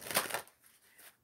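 A deck of oracle cards is shuffled at a table, a short papery riffle of quick flutters that fades after about half a second, followed by a faint second rustle, close and quiet.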